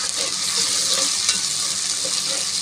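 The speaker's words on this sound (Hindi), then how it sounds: "इसकी मैं अच्छी तरह से भुनाई कर लूँ।" Onions with ginger-garlic paste sizzle loudly and continuously in a pan, a dense close hiss with faint scraping as they are stirred, and no voices.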